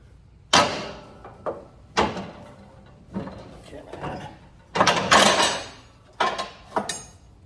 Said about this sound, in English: just grab these clips, pull them out, one on each side